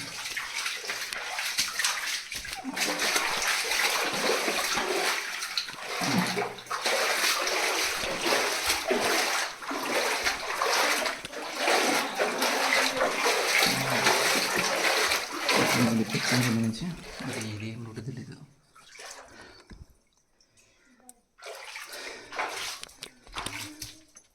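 Water flows and splashes steadily at a hillside temple site near Banaganapalle, with a close, continuous rushing wash that drops away near the end, and voices talking faintly beneath it.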